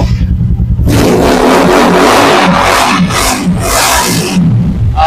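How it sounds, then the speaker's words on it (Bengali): A Regal Raptor YCR motorcycle idles loudly up close, then revs repeatedly in rising, roaring bursts, each throttle blip swelling and falling back over about five seconds. "আমার যে বাইকটা রয়েছে রিগেল ল্যাপটপ ওয়াইসিআর, এটা স্টার্ট দিয়ে সাউন্ডটা শুনিয়ে দিব।"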